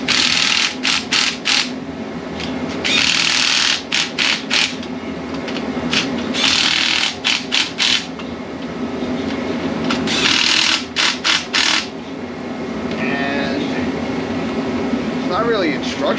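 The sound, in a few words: 3/8 inch impact wrench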